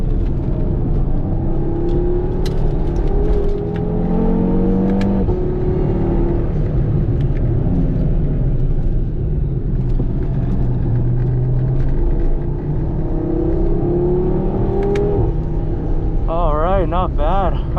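An Audi TT RS engine roars loudly as the car accelerates around a race track, its pitch climbing and dropping through gear changes, with wind rush and a brief rising tone near the end.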